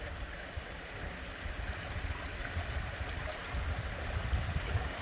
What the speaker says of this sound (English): we have a working fountain